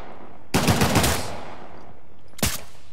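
Gunfire in the video game Uncharted: The Lost Legacy, a loud rapid burst of shots lasting about half a second, then a quieter stretch and a second short burst.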